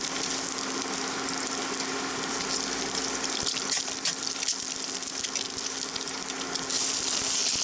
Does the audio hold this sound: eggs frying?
yes